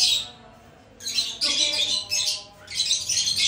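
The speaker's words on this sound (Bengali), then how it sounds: "পাখির কিচিরমিচির শব্দ শুনে বুঝতেই পারছেন" Birds chirp and squawk in short, bright bursts outdoors near a home kitchen, loud clusters separated by brief quieter gaps, with faint background sounds underneath.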